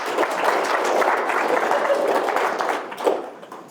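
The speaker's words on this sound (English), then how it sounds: "Give him a round of applause." Audience applause in a lecture hall after a game AI talk's stealth demonstration, a dense steady clapping wash lasting several seconds before tapering with a final burst.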